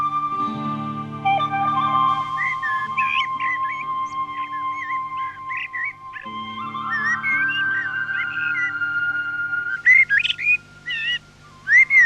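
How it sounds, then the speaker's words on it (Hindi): A drab bulbul sings a varied, warbling melody of clear whistled notes, fairly close, over a low steady droning hum, with brief sharper chirps near the end. "वो देखो, वो मटमैली सी चिड़िया कितना सुंदर गीत गा रही है।"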